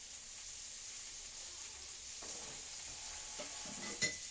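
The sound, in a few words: onions sizzling in bacon grease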